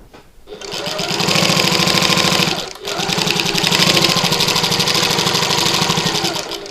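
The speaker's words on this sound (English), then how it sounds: "now I'll change back to my regular stitch length and do some back stitching" A sewing machine back-stitches a bag seam: a loud, close, rapid mechanical whirr with fast rhythmic needle clatter, briefly pausing partway before running on again.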